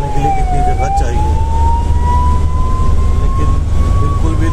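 An ambulance siren wails continuously as a single slowly rising tone over the rumble of road traffic, loud and close.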